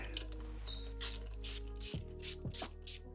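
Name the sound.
ratchet removing a bracket on a Range Rover engine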